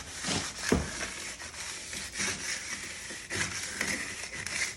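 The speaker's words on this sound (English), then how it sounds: "get my flat trowel. Just kind of carve that off." Flat trowel scraping and carving excess mud off a plywood curb form, a continuous close gritty rubbing and scraping texture with one sharp knock early on, no voices.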